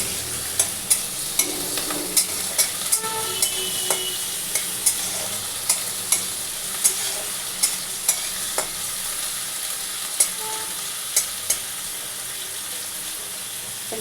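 Prawns frying in a pan for a home-style Bengali jackfruit-prawn curry, a steady close sizzle broken by sharp regular clicks and scrapes of stirring throughout, with no voices.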